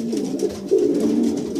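Young racing pigeons cooing close by, a few soft, low rolling coos repeating over a short stretch with no talk.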